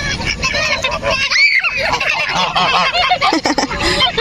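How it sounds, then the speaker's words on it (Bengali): Loud, close honking from a flock of Chinese ducks in a park in Malaysia, overlapping nasal calls in a continuous noisy chorus. "এগুলো হচ্ছে চীনা হাঁস।"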